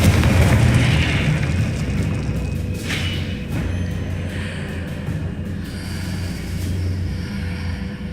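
A Confringo fire spell goes off in Hogwarts Legacy, a deep booming blast that rolls into a sustained, rumbling roar with scattered crackles over the game's ongoing background sound.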